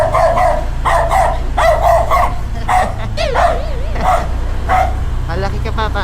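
A dog barks in repeated sharp bursts while chasing someone, with yips and a whimper mixed in, close and loud over a low steady engine hum.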